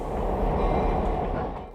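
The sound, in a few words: steam locomotive 332 backing out onto railroad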